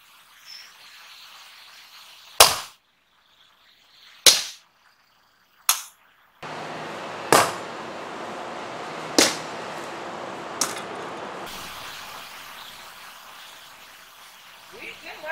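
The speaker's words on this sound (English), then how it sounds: "I'm going to first do a cut to his groin, then to the shoulders, and then a thrust" A Norman Viking sword striking lamellar armour: three sharp loud impacts, one cut, a second cut, then a thrust, spaced a couple of seconds apart, followed by three softer strikes over steady background noise.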